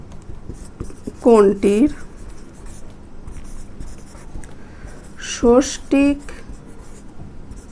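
Pen writing out a maths answer on paper, two short bursts of scratchy strokes separated by a long gap, heard close up beneath a voice speaking throughout.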